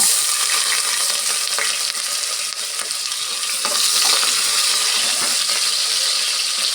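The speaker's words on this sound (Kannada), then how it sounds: "ಸ್ವಲ್ಪ ಒಂದು ನಿಮಿಷ ಫ್ರೈ ಮಾಡ್ಕೊಳ್ಳೋಣ ಹಾಗೇನೇ ಈರುಳ್ಳಿ ಸೇರಿಸ್ತಾ ಇದ್ದೀನಿ" Onions fry in oil with pulao spices for ghee rice, a steady loud sizzle filling the clip, with occasional light scrapes of a spoon stirring the pan close by.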